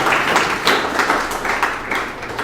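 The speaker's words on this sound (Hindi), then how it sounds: "एक बार फिर से जोरदार तालियां हो जाएं" An indoor podcast audience applauds a guest, a dense, steady clapping from many hands that stays loud throughout with no voices over it.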